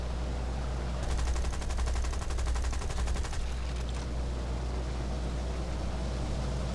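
Aircraft machine guns firing in War Thunder from a Blenheim Mk IV in fighter mode, a fast rattling burst of about three seconds over a steady engine drone, the drone continuing alone afterward.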